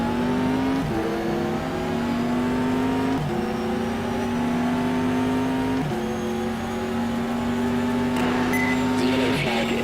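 Racing car engines in the GTR 2 racing game, a steady loud high-revving drone with gear shifts roughly every two to three seconds, the pitch dropping at each change before climbing again.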